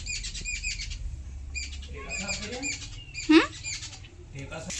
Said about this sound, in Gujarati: બર્ડ્સ બોલે છે સવારમાં